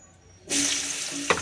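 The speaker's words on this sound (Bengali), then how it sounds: "সর্ষের তেল এর মধ্যে দিয়ে দেবো এই যে বেগুন কেটে রেখেছি বেগুনটা দিয়ে দেবো" Cut eggplant drops into hot mustard oil in a wok, setting off a sudden loud, steady sizzle that holds to the end, with a brief clatter near the close.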